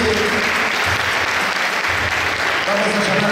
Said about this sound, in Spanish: Muy bien, un aplauso fuerte para la Atleta de Chile